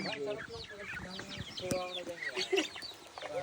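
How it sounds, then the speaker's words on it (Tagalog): Several chickens cluck and squawk close by in a busy, overlapping chorus, with a voice speaking briefly underneath. "Wala, kawawa naman yung mga manok."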